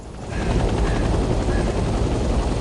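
Helicopter flight in the Vietnam-era video game Hell Let Loose, a steady loud rotor and engine roar that swells in the first half second and then holds without a break.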